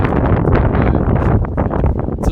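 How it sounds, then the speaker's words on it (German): Strong wind on a beach at Westport, New Zealand, buffeting the microphone in loud, rough gusts that rumble continuously throughout. "es ist ziemlich windig"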